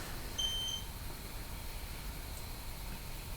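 A single short, high electronic beep sounds once near the start over a faint, steady room hiss in a quiet house.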